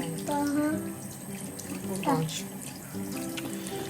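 Warm water runs from a tap in a steady broadband wash, with brief voices and a short squeak-like tone over it.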